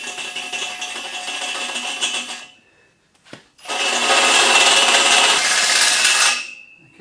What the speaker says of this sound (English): hole saws do that when you cut through metal